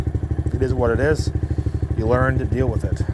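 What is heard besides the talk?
Kayo Bull 125 EFI kids ATV engine driving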